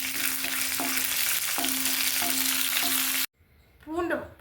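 Crushed garlic and curry leaves sizzle in hot tempering oil for a Tamil radish-leaf stir fry, a steady loud fry with faint rhythmic stirring taps, then sudden near silence followed by a short burst of spattering and scraping.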